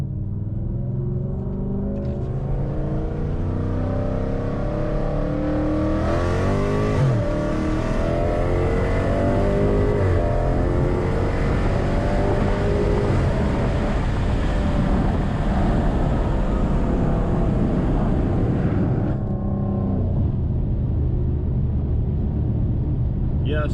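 A Dodge Challenger ScatPack on 275/40/20 tires pulls hard from a second-gear roll, its engine note climbing steadily and loudly for over twenty seconds under continuous wind and road roar.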